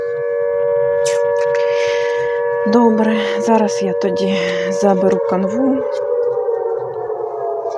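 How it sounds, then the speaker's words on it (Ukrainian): Air raid siren wailing in a Ukrainian setting, a steady, fairly loud tone that holds throughout while someone speaks over it. "у нас ранок починається з повітряної тривоги"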